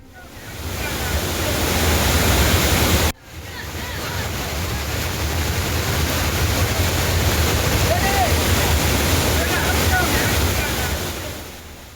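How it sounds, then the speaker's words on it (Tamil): Courtallam main waterfall in Tenkasi district in heavy flood roars as a loud, continuous rush of crashing water, dense and unbroken apart from one brief cut partway through. "தென்காசி மாவட்டம் குற்றாலம் மெயினருவியில் கடும் வெள்ளப்பெருக்கு."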